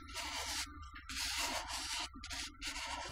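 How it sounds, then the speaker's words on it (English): A microphone is rubbed across a woman's chest, producing harsh, scratchy friction bursts in three long sweeps with brief breaks, close and abrasive against a low steady hum, with no talking. "This is the sound of a microphone being rubbed across a B cup breast"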